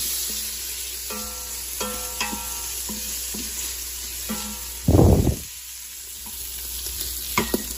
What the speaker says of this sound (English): we're gonna let those things saute down